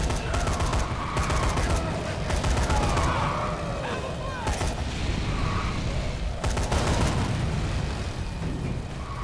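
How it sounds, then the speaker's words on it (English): Heavy gunshots from a gun in Dead Rising 3, dense shots and blasts hammering close and loud with a few sharper bursts, under continuous game chaos and occasional voices. "Only a couple more shots with this gun"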